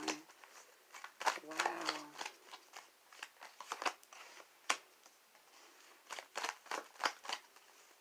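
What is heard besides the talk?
tarot cards being shuffled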